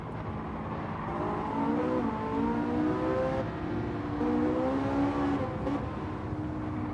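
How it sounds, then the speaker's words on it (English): Flat-plane-crank car engine in Gran Turismo 7 revs steadily, its rising and falling harmonic whine sustained and loud throughout with no speech over it. "It certainly sounds like a flat plane crank."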